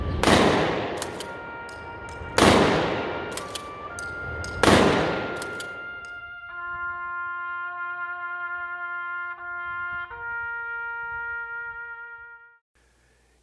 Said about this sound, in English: concluded with a 21-gun salute and the playing of taps